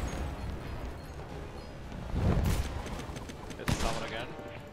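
Ship cannons firing in the pirate video game Blazing Sails, a rumbling volley of booms with two sharper blasts standing out, layered under ongoing game noise and a speaking voice.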